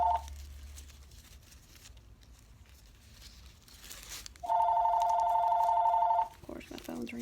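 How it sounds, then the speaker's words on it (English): A steady electronic phone ring holds for about two seconds, loud and close, after some quiet handling noises and before a soft rustle. "Of course, my phone's ringing."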